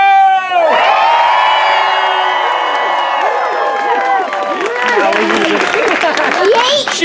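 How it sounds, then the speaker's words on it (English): An audience at a live fall 2019 Shakespeare show of A Midsummer Night's Dream cheers, whoops and claps loudly and steadily. High excited voices rise over a dense wash of applause. "Hoot, holler, clap, cheer, stomp your feet, whistle"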